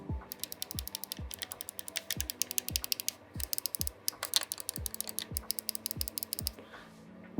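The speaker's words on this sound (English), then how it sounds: "all the buttons are mechanical switches" Mechanical switch buttons on MOBAPAD M6 Gemini Joy-Con controllers click rapidly up close in quick bursts of sharp, crisp ticks with brief pauses between runs.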